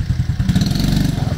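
Modified Honda Biz 110i motorcycle engine running close by, a rapid, pulsing mid-pitched putter with a brief rise in revs partway through.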